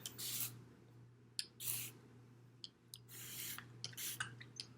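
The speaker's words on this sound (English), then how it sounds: "So I would grab my spray bottle with water, spray the front," Several short hissing sprays from a spray bottle misting water onto hair, close up, in irregular bursts separated by quiet pauses.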